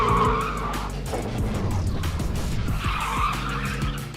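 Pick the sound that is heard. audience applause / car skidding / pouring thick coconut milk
car skidding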